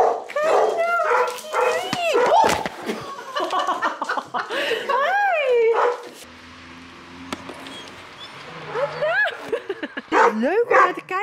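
Dog at an animal shelter barks and whimpers in repeated high, wavering yelps and whines throughout, loud and close, with a person talking softly alongside.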